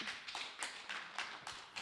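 An audience at a French lecture applauds softly and briefly. The faint, rhythmic clapping sounds distant and loose.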